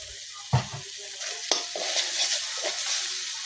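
Ground cumin and chilli powder, including Kashmiri chilli for colour, sautéed and stirred in a pan for a village-style fish and taro-flower curry; a sharp spoon scrape opens it, then a steady sizzle with a few more stirring knocks.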